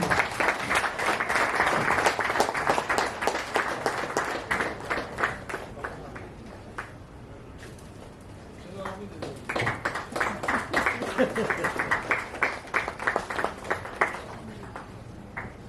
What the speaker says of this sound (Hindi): जोरदार तालियां भाई साहब के लिए